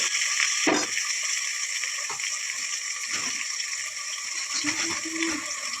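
Bay leaves, biryani spices, tomato and onion fry in oil with a continuous bright sizzle, broken by occasional stirring knocks and clatters.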